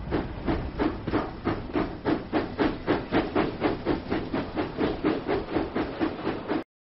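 A cartoon steam engine from a Thomas and Friends video game chuffs out rhythmic bursts of hissing steam, about three puffs per second, steady and loud for several seconds before stopping abruptly.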